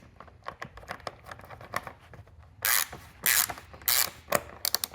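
A hand ratchet tightens the main fuel tank bolt on a motorcycle with a run of quick, close clicks, then louder bursts of rapid ratcheting in the second half.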